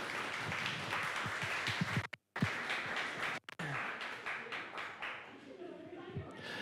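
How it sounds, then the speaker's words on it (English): A round of applause for a food hub director at a breadfruit growing gathering: scattered, fairly quiet clapping from a small audience, briefly interrupted by gaps, then thinning out toward the end. "let's get a round of applause"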